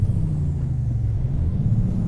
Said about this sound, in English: revving it a little bit high there